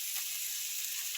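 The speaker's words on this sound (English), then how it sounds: "I'm just going to slide the onions and mushrooms in here." Onions and mushrooms sizzling in a hot pan with browned bits left from roasting chicken: a soft, steady, close hiss of frying that lasts only a moment.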